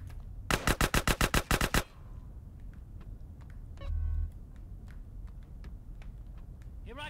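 Gunfire in Grand Theft Auto: San Andreas: a rapid burst of about ten loud automatic shots in quick succession, followed by quieter background noise and a short low thump.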